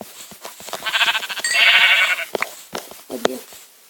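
A Minecraft sheep bleats in a wavering, nasal cry lasting about a second, mixed with short game sound effects and clicks before and after.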